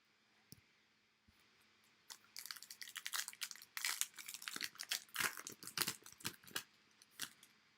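Stiff foil wrapper from a Bowman baseball card pack crinkles and crunches in quick close bursts, starting with a few isolated crackles and building to a steady run of sharp rustles with no talking.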